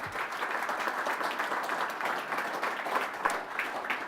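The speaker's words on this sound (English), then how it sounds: "Let's give all of them a huge round of applause." Steady, dense applause from an audience at a medical college event fills the room, close and sustained throughout, with no talking.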